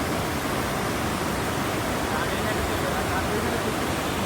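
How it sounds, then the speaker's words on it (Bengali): Shoilopropat waterfall in Bandarban roars as a loud, dense, unbroken rush of falling water that fills the whole scene and stays constant from start to finish. "সেই শব্দে ঝর্ণার জল বয়ে যাচ্ছে"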